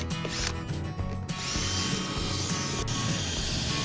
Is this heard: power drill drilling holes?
yes